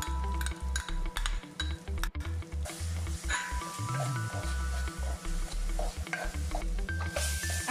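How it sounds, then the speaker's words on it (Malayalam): A crushed spice mix sautéed in hot coconut oil in a clay pot for rasam, with a sizzling crackle under repeated stirring scrapes and clinks against the pot, close and busy, no voices. "നമ്മൾ ഈ ചതച്ച് വെച്ച മിക്സ് ഇതിലേക്ക് ഇട്ടിട്ട് നമുക്ക് നന്നായി വഴറ്റിയെടുക്കാം."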